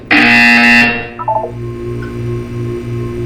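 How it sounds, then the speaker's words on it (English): In the video game Portal 2, a loud, harsh electronic buzzer blares for nearly a second, then a short run of tonal beeps follows over a low pulsing hum. "You will hear a buzzer."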